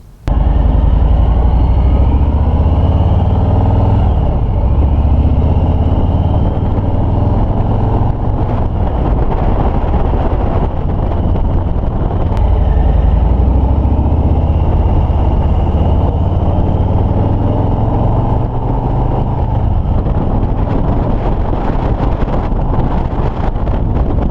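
A 2020 Harley-Davidson Street Bob motorcycle engine pulls hard on a test ride, a loud steady drone rising and falling with throttle, heavily buffeted by wind noise throughout.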